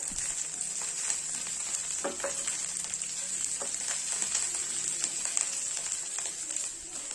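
Two handfuls of coriander leaves sauté in a pan while a chutney is made. The sizzle is soft and steady, with occasional light stirring taps and no talking.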